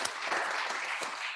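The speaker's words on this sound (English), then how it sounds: "Let's give him one more round of applause" Steady applause from a crowd, clapping densely and evenly throughout without pause.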